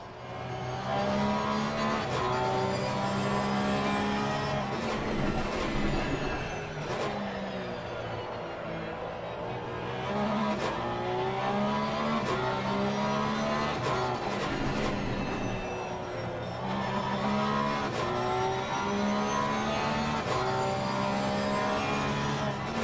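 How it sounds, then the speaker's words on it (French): A Porsche race car at Brands Hatch, heard from an onboard camera: a loud, continuous engine drone that rises and falls through gear changes and revs, dominating the whole stretch with no talk. "La Porsche en caméra embarquée."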